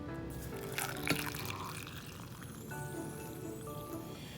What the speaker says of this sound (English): Then I'm gonna get the water.